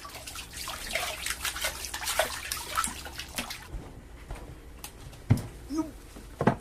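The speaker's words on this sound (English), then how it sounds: "Sangoro's wife, Chikano, washes the fish salted in spring." Spring-salted fish being washed by hand in water at a rural Japanese home, with soft splashing and sloshing in the first half, then quieter drips and a few sharp knocks, close and gentle.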